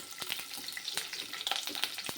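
Dried red chillies frying in hot oil in a pan for gongura chicken fry, giving a steady close sizzle with crackling pops and a few stirring scrapes throughout.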